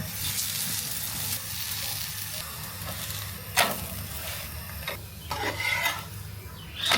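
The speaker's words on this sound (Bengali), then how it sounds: "অল্প করে ঘি বা তেল দিয়ে ভাজতে পারেন" Garlic layer paratha, topped with sesame and black cumin, frying in ghee or oil on a pan: steady close sizzling with a few sharp scraping bursts as it is pressed and moved, no talking.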